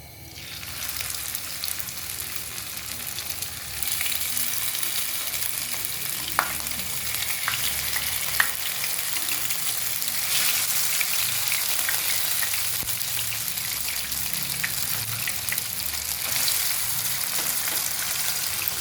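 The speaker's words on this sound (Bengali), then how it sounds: "তেল গরম করে নিয়েছি, এখন আমি শাসলিক দিয়ে দিচ্ছি।" Chicken shashlik fries in hot oil over a medium flame, a loud, steady, close sizzle with crackling spatters that runs throughout with no voices.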